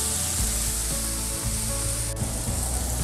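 Carne asada strips browning in a pan with soy sauce and sugar, giving off a constant close sizzle and crackle with a low steady hum underneath.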